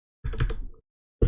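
Computer keyboard typing while coding a Laravel route, a quick burst of close key clicks for about half a second, then a pause and another keystroke starting near the end.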